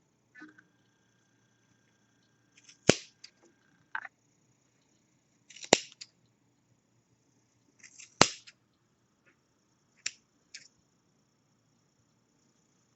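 Scissors snip through crochet yarn loop ends on a baby hat pom-pom, a few sharp isolated clicks spaced seconds apart, close and clear against a quiet room.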